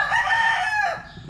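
An Albany Sweater rooster gives a short crow, a close, moderately loud call of about one second that trails off into low background rumble.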